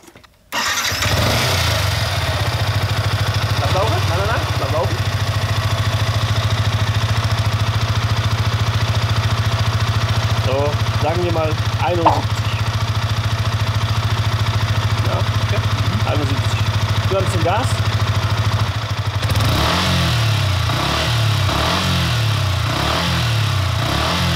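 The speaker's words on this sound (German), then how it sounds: "dann gib mal Gas hier" A Yamaha YZF-R125 motorcycle fitted with an Akrapovič exhaust runs loud and close, holding a steady, droning engine note for about twenty seconds. Near the end the sound turns rougher and more pulsing. Voices talk briefly over the engine.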